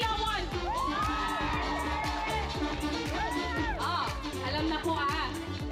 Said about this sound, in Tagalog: bigyan niyo ng palakpakan na may hiyawan